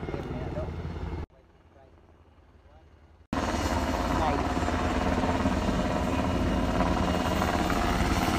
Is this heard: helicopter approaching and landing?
yes